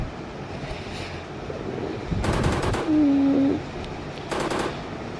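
Rapid automatic gunfire from shooting zombies in the Indian Bike Driving 3D video game, heard as two loud, fast bursts of rattling shots, the first longer and the second brief, over a steady background rush.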